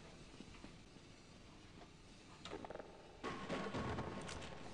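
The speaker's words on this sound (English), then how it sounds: "Got a new tram." A tram from the video game Half-Life rolls along with a steady rumbling, rail-like hiss, then grows louder and more clattering with metallic screeches toward the end, with no voices.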